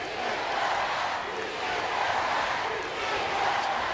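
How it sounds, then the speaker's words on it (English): A capacity arena crowd at a wrestling show in Laredo, Texas chanting in unison, a dense, loud, continuous roar with a rising and falling rhythm of massed voices. "This capacity crowd in Laredo chanting "Si se puede.""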